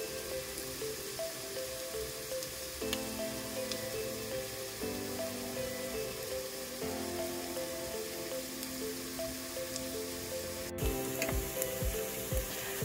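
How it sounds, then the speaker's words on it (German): Chopped onion sizzling in two tablespoons of hot oil in a pot or wok, a continuous crackling hiss with a faint tonal hum beneath and a few sharper pops near the end. "In einem Topf oder Wok erhitzen wir nun 2 Esslöffel Öl und geben dann unsere kleingeschnittene Zwiebel"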